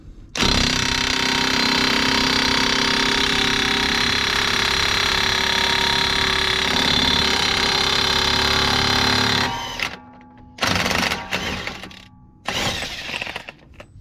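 A loud, continuous rattling impact wrench on bolts of a blown 2.5-litre engine in a 2008 Nissan X-Trail T31 runs for about nine seconds, then stops and restarts in several short bursts.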